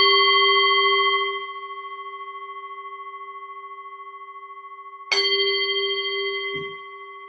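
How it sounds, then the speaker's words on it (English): Meditation bell struck twice, each strike ringing out in a long, clear, sustained tone that slowly fades, the second strike about five seconds after the first, alone in a quiet room. "So I'll ring the bell."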